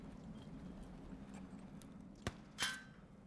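A horse-themed stream alert plays during a Tarkov game stream, with faint hoof clip-clops and a short whinny-like burst near the end over quiet game background.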